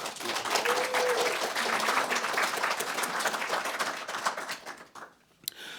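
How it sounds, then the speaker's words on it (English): An audience claps in sustained applause for conference panelists, a dense patter of many hands that fades out near the end, with a few voices underneath. "let's give our panelists a round of applause"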